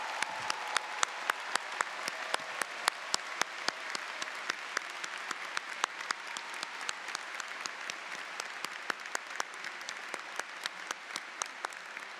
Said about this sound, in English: And now we can all clap.